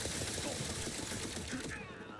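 Rapid turret gunfire in a video game, a dense continuous rattle of shots that fills the clip at steady loudness and tails off slightly near the end.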